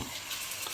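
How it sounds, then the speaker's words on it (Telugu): Chicken frying in ghee in a pot for a homemade chicken biryani, giving a dense, steady sizzle that is close and fairly quiet, with no talking, over a very short moment. "నెయ్యిలో చికెన్ పడితే అసలు ఆ స్మెల్ మామూలుగా ఉండదు."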